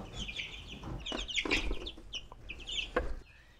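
Young chickens cluck and peep in a cluster of short, high calls, close by and fairly soft, over a faint background rustle.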